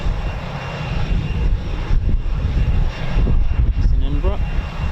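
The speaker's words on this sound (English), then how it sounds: "It's an Embraer." An Embraer aircraft's engines roar loudly and continuously at RAF Coningsby, a broad steady rumble with faint voices behind it.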